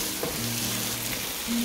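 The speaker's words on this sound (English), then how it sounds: "I'm going to put the sauce in now." Sauce poured into cooked chicken mince frying with chili in a pan for Asian-style spaghetti bolognaise, giving a steady loud sizzle with a brief splash as the liquid hits the hot meat.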